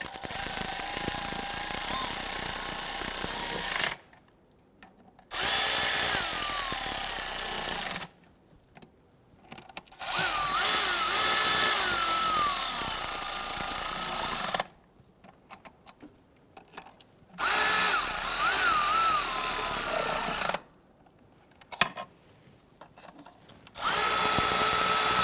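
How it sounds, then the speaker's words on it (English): A power tool snugs down valve cover bolts on a 1999-2004 Jeep Grand Cherokee 4.7L V8. It whirs in several bursts of a few seconds each, close and loud, with short quiet gaps between bolts and no talking. "I want to go ahead and snug all these bolts down gently."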